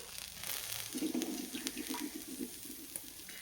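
Green chillies frying in a pan for Marathi thecha, a soft crackling sizzle that picks up after a second and continues with light stirring clatter, fairly quiet and close.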